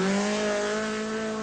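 Datsun Violet rally car driven hard on a stage, a brief steady engine tone holding high revs, fairly faint and heard alone.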